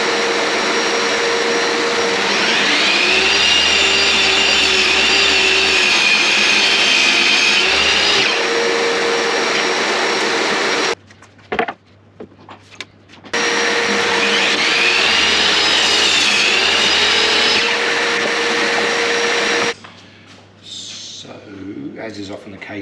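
A workshop dust collector runs loud and steady with a high whine, stops, starts again and keeps droning, while someone talks over parts of it.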